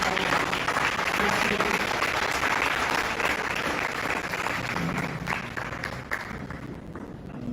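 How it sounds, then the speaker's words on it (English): Sustained applause from guests at a business breakfast meeting in Toronto, a full, even roar of many hands clapping throughout, easing slightly near the end. "Let us give a round of applause"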